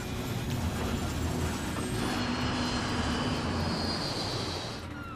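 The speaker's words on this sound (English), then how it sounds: "The plane is losing altitude and falling out of the sky." Airliner engines roar steadily and loudly as the plane loses altitude, a dense sustained rumble with a rising whine before the sound eases slightly at the end.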